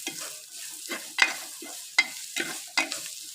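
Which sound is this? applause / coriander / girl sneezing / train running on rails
coriander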